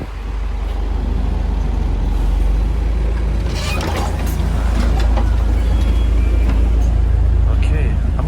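A London route 109 double-decker bus from Beddington garage pulls in with a loud, close rumble of engine and traffic, air brakes hissing briefly midway, while a voice talks over the scene.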